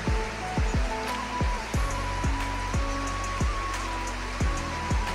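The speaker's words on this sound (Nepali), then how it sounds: "कस्तो बेसी पानी परिरहेछ" Heavy rain pours down in a village, a dense, continuous hiss of falling water with a few low, dull thuds scattered through it and no speech.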